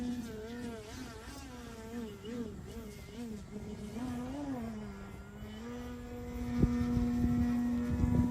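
A 3D foam RC airplane hovering with the rudder on high rate, its small electric motor giving a steady buzzing whine that wavers in pitch and then holds level before surging louder, with a person talking over it.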